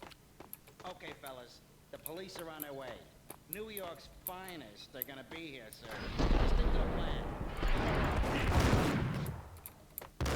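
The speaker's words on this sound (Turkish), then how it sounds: "Niye öyle pompalıyla vuruyor falan?" Shotgun gunfire in the video game Max Payne: someone talks over quiet game sound, then a loud, dense run of blasts fills the last few seconds.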